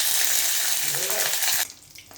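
Peanuts tipped into a hot pan give a loud, steady sizzle and frying hiss that holds close and strong, then drops off abruptly near the end, while a cook prepares a kusakra breakfast.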